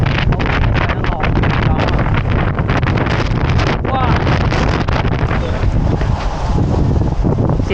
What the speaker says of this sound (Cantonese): 而家咧，我哋就好大風